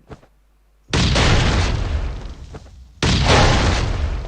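Two loud, booming explosions in the video game Last Island: Survival, each hitting suddenly and rumbling on for a couple of seconds, with a brief quieter gap between them and no talk.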